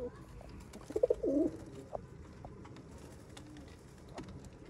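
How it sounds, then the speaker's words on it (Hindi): A Sialkoti rooftop pigeon gives a short, fairly close coo of a few pulses, then the room stays quiet apart from faint background noise and scattered soft chirps. "ये देखेंगे दोस्तों सियालकोटी छत वाले कबूतर"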